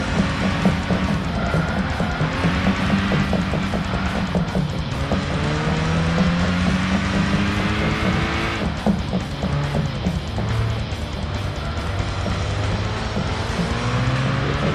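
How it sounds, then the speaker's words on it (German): Race car engine in the video game Gran Turismo 6, droning loudly and continuously with rising and falling pitch as it accelerates and shifts gears along the course, alone without talk. "Dann fahre ich einfach mal los."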